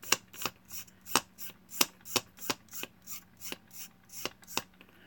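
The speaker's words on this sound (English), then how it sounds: "Then they just scrape it all off in there." Tool scraping material off a miniature on a hobby bench: a steady series of about a dozen short, crisp rasping strokes in even rhythm, close and fairly quiet, with no talking.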